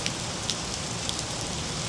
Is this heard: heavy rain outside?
yes